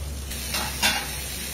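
Olive oil heating in a hot pan with soy-marinated food starting to fry, a soft steady hiss with a couple of brief louder sizzling bursts, fairly quiet and close, no talking.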